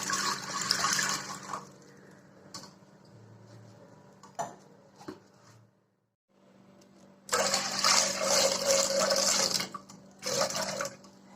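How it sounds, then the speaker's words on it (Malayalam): Water is poured into a pot over eggs for boiling, two bursts of rushing, splashing pour separated by quieter dripping and handling sounds, fairly close. "എന്നിട്ട് വെള്ളം ഒഴിച്ച് കൊടുക്കാം."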